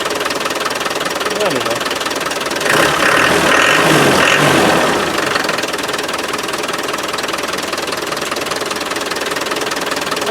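A Land Rover 300Tdi diesel engine with a fuel supply problem idles with a knocking clatter, swelling briefly louder in the middle before settling back; someone speaks a few words over it.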